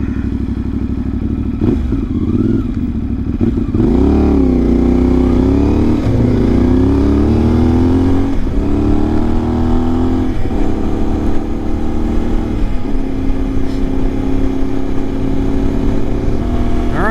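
A Ibex 450 motorcycle engine runs steadily and loud up close, its idle rumbling with occasional small revs and a faint clatter throughout.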